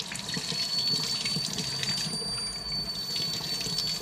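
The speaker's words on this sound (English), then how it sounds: "some warm tap water." Warm tap water runs steadily from a faucet into a sink for washing a set of keycaps, a continuous close splashing flow with no talking.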